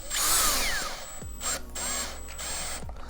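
A power drill drives a bolt at low torque while ESD arms are installed, a loud close whine in short bursts that briefly dip and restart.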